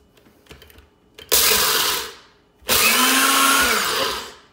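A Nutribullet blender pulse-grinding coffee beans: two loud whirring bursts of roughly a second and a half each, separated by a short pause, following a few faint clicks as the cup is locked in.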